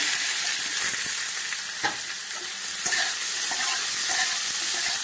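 Cut potatoes sizzle steadily in hot oil in a pan in a village kitchen, with occasional scraping stirs and clicks over the continuous close frying hiss.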